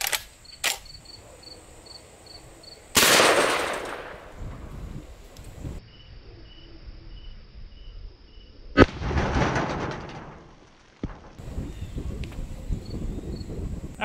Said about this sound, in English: shotgun slug that I know of that will shoot subsonic and cycle a semi-automatic shotgun